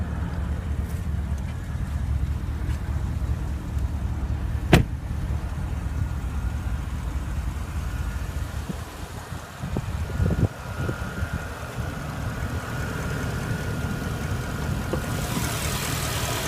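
The 4.8-liter twin-turbo V8 of a 2015 Porsche Panamera Turbo, with aluminum block and heads and direct injection, idles steadily under an open hood, a close, even low rumble throughout with no talking.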